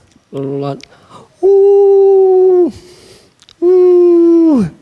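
A voice imitates a howl in two long, sustained, steady-pitched wails that drop off at the end, each loud and close, preceded by a short vocal sound.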